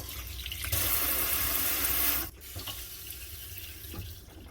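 A sink tap in an old building runs hot and cold water, a close, steady gush that starts suddenly, then cuts off to a quieter trickle and faint drips.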